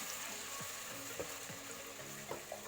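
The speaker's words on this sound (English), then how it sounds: "I'm going to be adding half purple onions, finely chopped. So you let it to fry or saute it for 2 minutes" Finely chopped purple onions fry in hot oil with a steady, close sizzle, broken by a few faint scrapes and clicks of stirring.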